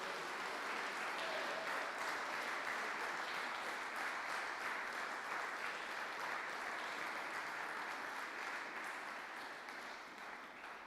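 Sustained audience applause at the Springfield Scottish Squash Open semi-finals, a dense steady wash of clapping from the crowd that holds for ten seconds and eases slightly toward the end, heard from a distance.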